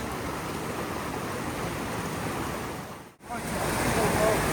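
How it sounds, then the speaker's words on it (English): Rushing water of a washed-out stream on the road from Sunrise Hut, a loud steady roar of flowing water heard close, briefly dipping out near the middle before resuming. "I'm just wading across and it's only halfway up the shin, but you really feel the force of the water coming down."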